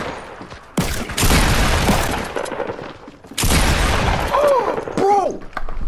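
Shotgun blasts in Fortnite ring out in two loud, harsh bursts separated by a short gap, with sharp reports and crashing debris, while a voice talks in between.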